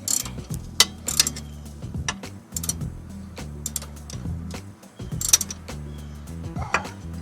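A ratchet wrench clicks in quick bursts while tightening a strut on a 1986-1991 Cadillac Seville, close and crisp, with short pauses and a few louder metallic knocks between runs of ratcheting.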